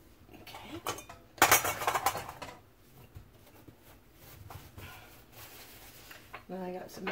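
Metal canning lids and rings handled over glass jars filled with lard, with clinks and clatters close by, a sharp cluster early on and lighter taps later, while a person talks throughout.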